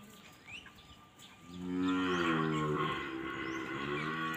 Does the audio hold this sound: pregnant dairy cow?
yes